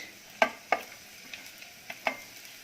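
Vegetables for hot and sour soup (carrot, spring onion, French beans, cabbage) sizzle softly in a pan over low flame, punctuated by several sharp scraping stirs of a spatula at irregular intervals.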